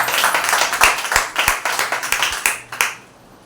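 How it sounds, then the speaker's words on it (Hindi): Scattered hand clapping from a small congregation at a church service, a few dozen sharp claps over a few seconds that thin out and stop near the end, fairly close and alone without talk. "जोरदार तालियां हो जाएं"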